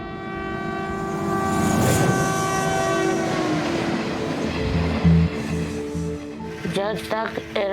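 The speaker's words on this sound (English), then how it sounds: "trapped in a carriage on a moving train" Moving passenger train in Bihar, India heard from inside a carriage: loud steady rumble with rhythmic wheel clatter, a horn-like tonal sound near the start and clanking toward the end.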